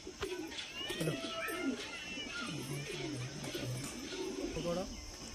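Kala Sobuj pigeons coo over and over in soft, low, rolling calls, close by, while someone talks over them.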